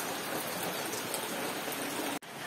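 Rain falling outside, a steady, soft hiss of drops on surfaces, continuous and moderately distant, with a brief break near the end.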